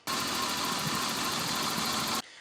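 A 1987 BMW E30 with the M20 engine idles roughly because of a dirty idle control valve, giving a steady, close mechanical drone that runs unbroken for about two seconds and then cuts off.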